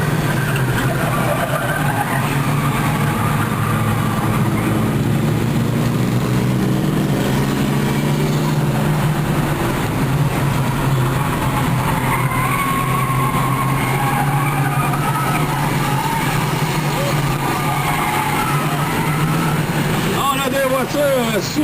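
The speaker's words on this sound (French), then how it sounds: "Encore beaucoup de bolides sur la piste." Race cars circle the track at Autodrome St-Eustache during a 250-lap enduro, a loud continuous engine roar with pitch swells as cars pass, under steady commentary.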